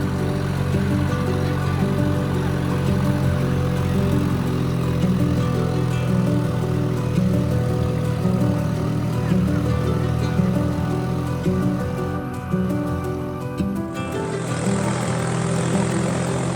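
A tractor packed full of pilgrims climbs uphill on the trek to Lapchi, its engine giving a loud, steady, close drone that holds unbroken throughout with no voices.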